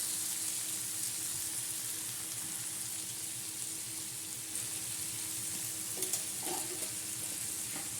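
Egg chutney with chilli thecha frying on a griddle gives a steady, close sizzle with occasional stirring scrapes, running on its own without talk.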